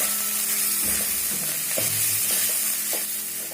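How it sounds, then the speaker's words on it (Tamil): Turmeric and chili powder sauté in a hot pan for crab gravy, a continuous loud sizzle broken by several scraping stirs of a spoon against the pan. "சேர்த்து நல்லா வதக்கிக்கலாம்."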